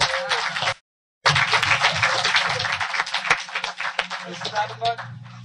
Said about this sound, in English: So I want everyone to give each other a big round of applause.